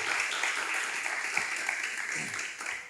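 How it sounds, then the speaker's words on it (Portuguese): A church congregation claps in praise of Jesus during a service, producing a dense, continuous wash of applause that stays steady and fairly loud throughout, with no voices standing out. "Você pode dar uma salva de palmas a Jesus?"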